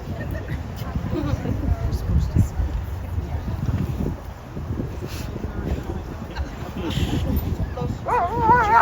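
A trained explosive detection dog barks in short bursts amid steady wind and outdoor noise at a charity run, its barks moderately close and repeated through the scene, with people talking nearby.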